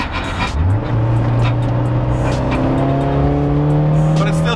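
A stock Toyota AE86 Corolla with no limited-slip differential and stock suspension lapping a track, its engine droning steadily and rising in pitch through the gears, loud and close from inside the car, with no talk.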